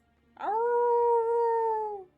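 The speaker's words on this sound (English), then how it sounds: "You start to hear howling in the distance." A single drawn-out canine howl, like a wolf in the distance, used as tabletop role-playing ambience: a clear, steady tonal wail that rises in, holds for over a second and a half, then fades out against near silence.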